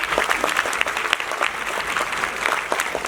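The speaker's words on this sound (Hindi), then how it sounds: "बहुत बहुत तालियों के साथ उनका स्वागत कीजिए।" Audience at a foundation's annual function applauds to welcome arriving guests, many hands clapping in a thick, steady patter with individual claps flickering through, loud and continuous throughout.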